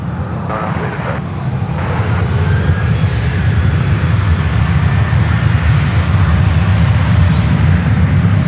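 A Southwest airliner at San Francisco airport taking off, a loud, continuous low jet roar that swells and holds steady as it powers up, with brief radio chatter over it.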